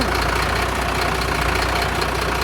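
Mercedes truck fitted with a Hiab crane, its diesel engine running at a steady idle with a dense low rumble and a slightly uneven, knocking pulse throughout.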